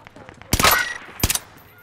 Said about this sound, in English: people shoot behind us